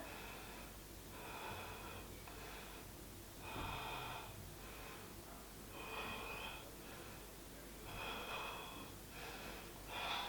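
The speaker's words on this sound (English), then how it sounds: "hold the Dhanurasana. Take 5 deep breaths here" Deep, slow breaths while a yoga bow pose (Dhanurasana) is held, heard as several long breathy swells roughly every two seconds over steady low background noise, close and fairly soft, with no talking.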